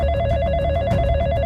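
A telephone bell rings in repeated rapid trilling bursts, loud and close, with a steady electronic tone running through the brief span and no talk.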